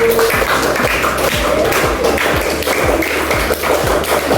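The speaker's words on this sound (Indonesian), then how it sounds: "beri aplaus yang bagus" Classroom applause from students acknowledging a presenting group, heard as a dense run of quick claps and taps with a steady, close rhythm throughout, with no speech over it.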